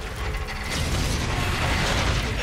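A heavy door mechanism grinds and ratchets open in the sci-fi shooter Call of Duty: Infinite Warfare, with gears clanking and clicking steadily and loudly for the whole stretch, no voices over it.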